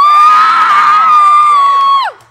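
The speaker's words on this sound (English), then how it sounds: "I get like screams instead of yeah" A concert crowd at a BryanStars tour show in Tupelo, Mississippi screams loudly in a sustained, high-pitched shriek that holds for about two seconds and then cuts off abruptly.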